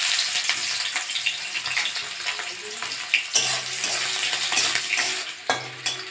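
Chopped onion frying with garam masala in a pan, constant sizzling broken by repeated scraping and stirring knocks from a utensil.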